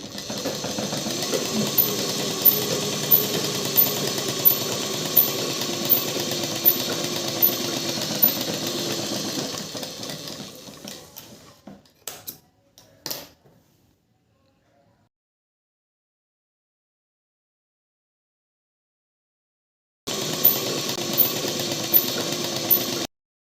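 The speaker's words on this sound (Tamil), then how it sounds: "இதே மாதிரி ரெண்டு மடி மடித்து இப்போது ஃப்ரண்ட் அண்ட் பேக் ரெண்டுமே ஸ்டிச் பண்ணிடலாம்" Sewing machine stitching a petticoat hem in a tailoring class, a steady rapid mechanical whir that runs for about ten seconds, stops, falls silent, then starts up again near the end.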